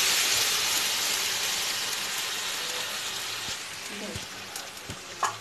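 Steady, dense sizzling of a blended paste frying in hot oil, loud and close, with a few clinks and stirring knocks toward the end.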